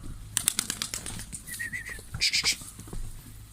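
Pigeons in a new coop take flight, with several quick bursts of wing flapping close by, a brief cooing or chirp in the middle, and short flurries of beating wings.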